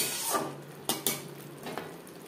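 A spoon stirs turmeric, garlic and spices in a cooking pan with a faint sizzle, giving a few sharp metallic scrapes and clinks, quiet and close.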